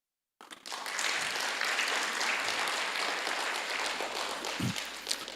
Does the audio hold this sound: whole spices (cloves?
no